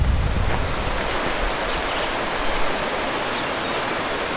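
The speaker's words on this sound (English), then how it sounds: "Just coming into the rapids." River rapids in a deep Pennsylvania gorge send water rushing past in a dense, steady roar, close and loud, with a slightly stronger burst at the start and no voices.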